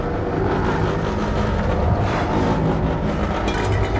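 A dough mixer for bread, noodle and cracker dough runs steadily with its lid closed, giving a continuous low mechanical hum and rumble at even loudness throughout.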